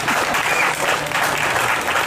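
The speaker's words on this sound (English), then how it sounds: "That deserves a clap." Audience applause fills a press conference at Denver's historic Five Points, steady and dense clapping from a crowd sustained throughout without speech.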